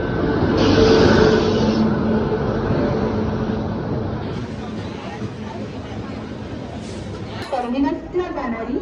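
A local train pulls into a railway station platform, its steady, loud rumble and rattle running under busy crowd chatter, with voices rising near the end.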